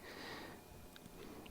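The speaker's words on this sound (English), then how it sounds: "sniffles again" Soft, close sniffling with a few short nasal intakes, quiet and intermittent, no talking.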